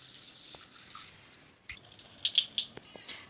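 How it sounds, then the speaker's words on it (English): Urad dal being washed in water in a home kitchen: soft sloshing and scattered drips, quiet at first, then a livelier run of splashes and trickles, with no talking. "Now I will wash this urad dal."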